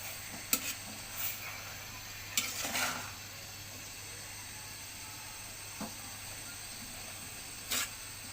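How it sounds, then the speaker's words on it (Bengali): Red amaranth greens being stirred in a frying pan, a soft steady sizzle and hiss with a few sharp clinks of the utensil against the pan scattered through, quiet and close. "ঢাকনা খুলে শাকটা একটু নেড়ে চেড়ে দিব।"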